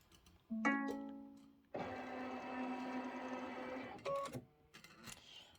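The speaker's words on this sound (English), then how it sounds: "my machine's already threaded up. I'm gonna go ahead and set it for sewing." A sewing machine stitches two pieces of cotton at a 1.8 stitch length, starting with short whirring bursts and then running in one steady mechanical hum for a couple of seconds before stopping with a few brief clicks.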